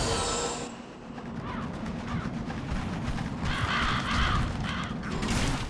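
Crows caw repeatedly over mechanical creaking in the Demon's Souls video game at Boletarian Palace, signalling an incoming dragon; harsh calls arrive in several bursts over a continuous rumbling background, with no talking.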